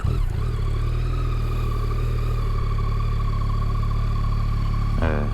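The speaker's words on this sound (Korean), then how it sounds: "소리가 또 3기통 소리가 또 매력적이거든요." A Yamaha XSR900 three-cylinder motorcycle engine idles close by in a smooth, steady drone, then gives a short throttle blip near the end.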